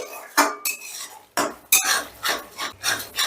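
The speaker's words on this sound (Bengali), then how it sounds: "এবার চিনিটাও মশলার সাথে একটু মিশিয়ে নিচ্ছি।" A spoon scrapes and clatters against a metal pan as sugar is mixed into spice paste for a country chicken curry, several rough rhythmic strokes close by, with a faint sizzle and no talking.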